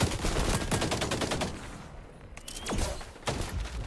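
Shotgun fire in the video game XDefiant comes as rapid, loud overlapping bursts of blasts, dense at first, easing briefly, then resuming in sharp cracks.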